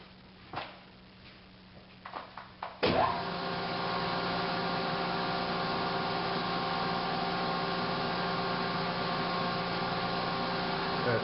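An Ellis bandsaw starts up after a few faint knocks and clicks. Its motor kicks on abruptly and settles into a steady, loud, even hum that runs alone to the end.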